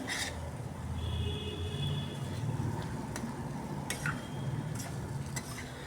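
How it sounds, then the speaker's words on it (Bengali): Potato and cauliflower stirred with spices in a small pan, a steady scraping and soft sizzle running throughout with a few light clicks of the spoon against the pan, close and moderately loud. "এভাবে মশলার সাথে একটু সময় কষিয়ে নিচ্ছি একটু ধীরে ধীরে নাড়িয়ে কষাচ্ছি"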